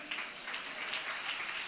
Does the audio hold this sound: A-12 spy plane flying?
no